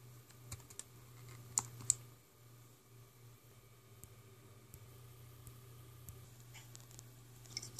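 Quiet, irregular tapping on a computer keyboard, with scattered clicks over a low steady hum.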